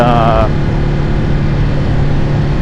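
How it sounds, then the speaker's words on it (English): Ducati Hypermotard motorcycle with an L-twin engine idling nearby, a steady low rumble throughout, with a brief higher tonal whine at the start. "Just listen to that. This is the L-twin engine."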